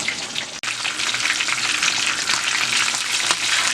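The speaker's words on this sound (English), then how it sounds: "The sauce for the Attieke is almost ready. It's getting thicker as it's frying." Attieke sauce thickening as it fries in a pot, a dense, continuous close-up sizzle that holds steady and fairly loud throughout, with no voices.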